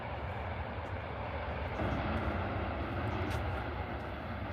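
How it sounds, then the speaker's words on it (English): Ryanair jet taxiing at Manchester Airport, a steady broadband engine roar heard at a distance, continuous and even for several seconds with no talk. "Ryanair taxis. Ryanair are the noisiest planes, aren't they?"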